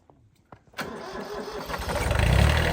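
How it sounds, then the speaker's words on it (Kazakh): A tractor engine is cranked over with a few short clicks, then catches abruptly and settles into a loud, rumbling idle that grows louder and deeper near the end. "Азыр тракторлордон дагы бирөөсүн жүргүзүп көрөлү ака"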